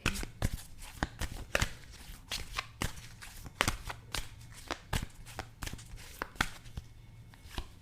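Tarot cards handled and drawn one at a time from a deck, giving a run of sharp, close card snaps and slides at an irregular pace over a quiet room hum, with no talk.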